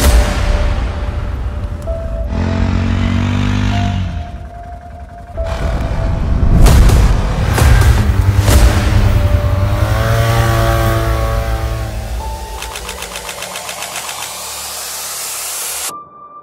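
A used ATV engine cranks and starts after a fuel pump replacement, then revs up and down loudly with rising and falling tones before idling steadily and cutting off, close by with no talk.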